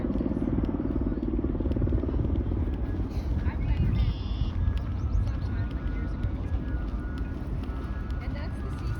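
A small plane flies overhead toward a Toronto airport, heard from the Lower Don Valley Trail near downtown: a loud, steady broadband engine roar that holds constant throughout, with faint background sounds layered in.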